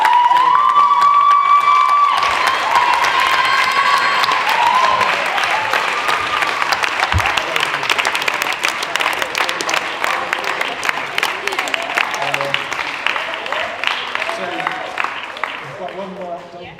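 A crowd at a student leadership awards ceremony claps loudly with scattered cheers and shouts, sustained dense applause that slowly tapers off toward the end, with some voices briefly audible at the start.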